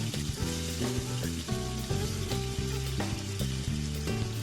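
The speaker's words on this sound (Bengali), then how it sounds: "কড়াইয়ে আমি তেল দিয়ে দিয়েছিলাম, সর্ষের তেল। তারপরে মাছগুলোকে এক এক করে ভেজে নেব।" Hilsa fish pieces fry in hot mustard oil in a wok, a steady sizzle punctuated by a regular series of sharp clicks and clacks from the pan.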